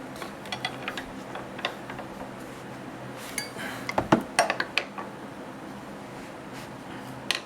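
Metal tools click and clink against a 2007 Mitsubishi Outlander A/C compressor coil as a puller is pried at, a scatter of light, sharp ticks with a brief louder cluster midway, over a quiet background.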